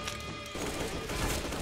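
Rapid gunfire in the video game CSGO, a dense burst of shots following a brief quieter lead-in, loud and continuous with no talk.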